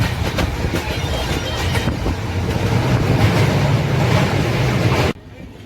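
Padatik Express standing at Sealdah station, a loud, steady rail rumble with clattering and station noise under a faint voice, cutting off abruptly near the end.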